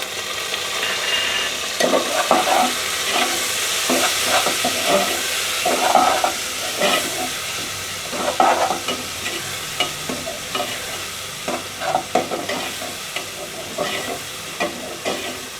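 Loud sizzling and hissing from garlic-ginger paste frying in a hot pan, with repeated scraping and stirring strokes throughout.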